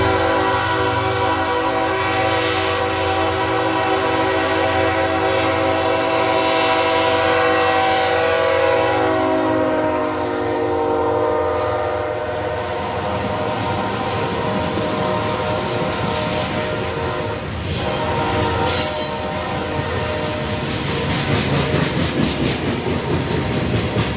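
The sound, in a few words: BNSF grain freight train with four locomotives passing, horn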